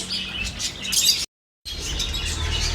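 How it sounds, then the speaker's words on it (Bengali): Cockatiels, budgerigars, diamond doves and finches chirp and tweet together in an aviary, a dense continuous chatter of small calls, broken by a brief cut to complete silence before the chirping resumes. "ককাটেল পাখি বাজরিকা পাখি ডায়মন্ড ঘুঘু অস্ট্রেলিয়ান ঘুঘু জাবা পাখি প্রিন্স পাখি"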